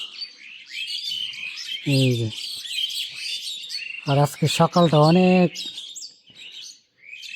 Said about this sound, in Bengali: এই যে পাখি, শালিক পাখি, এগুলার কোলাহল কত মিষ্টি শুনতে পাচ্ছেন আপনারা।